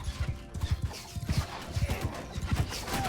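Hooves of horse archers clatter in a fast, uneven galloping rhythm in the video game Mount & Blade II: Bannerlord, several horses with a faint whinny and distant shouting underneath.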